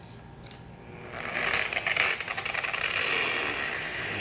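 A polishing drill running at its slowest speed setting buffs a car headlight lens, starting after a brief pause and settling into a steady, close, whirring rattle with gritty rhythmic scrubbing.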